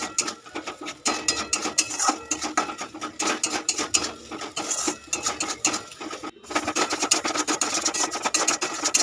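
Spice masala for stuffed pointed gourd with prawns is stirred and scraped hard in a pan with a little water, giving continuous close rasping scrapes in quick uneven strokes, with a brief pause near the middle and no talking.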